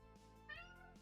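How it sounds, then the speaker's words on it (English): A pet cat gives a single short meow close by in a quiet indoor room, faint and alone. "Cat!"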